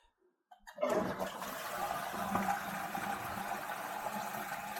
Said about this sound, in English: let it fill up again, and then let's do a full flush.